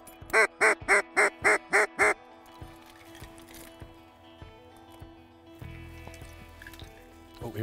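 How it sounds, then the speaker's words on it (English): Ducks quack in a rapid run of about seven loud, close calls during a duck hunt, then quieter rustling and faint distant ambience follow. "There's another group of ducks coming from that path"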